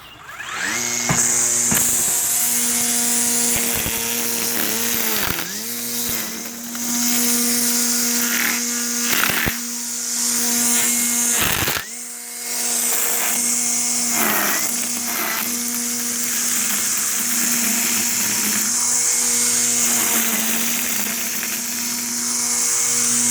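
Battery-powered Stihl FSA 85 string trimmer cutting dense grass, a loud steady high whine close by that dips and surges as the line bites, with brief cut-outs and restarts over about twenty seconds.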